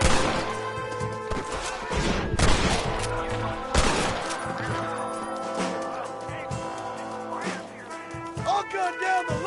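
In the Red Dead Redemption game on a PS4 Pro, a rapid series of loud gunshots and crashing impacts rings out with music and voices underneath.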